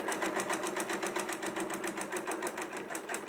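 Rapid, evenly spaced stitching from a sewing machine working through thicker quilting fabric, a quick mechanical chatter of needle strokes repeating steadily at close range with no talking.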